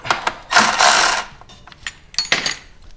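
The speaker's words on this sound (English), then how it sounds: "Use our ratchet." A hand ratchet tightens a nut while a RollerSki is fitted to a Pilot TS ski, giving two loud, close bursts of rapid clicking separated by softer clicks and pauses.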